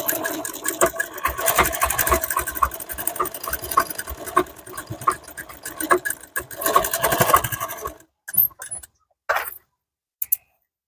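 A sewing machine stitching a blouse runs in a fast, steady mechanical chatter for about eight seconds, then stops; a few short separate bursts of handling noise follow in near silence.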